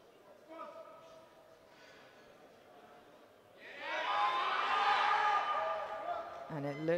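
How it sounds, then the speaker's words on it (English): A home crowd at a junior powerlifting championship in Hungary bursts into loud cheering and whooping for a local lifter's squat. The sound swells suddenly halfway through and stays strong, with a voice cutting in at the very end. "getting a lot of support here from the home crowd"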